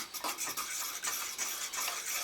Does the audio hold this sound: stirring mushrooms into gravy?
yes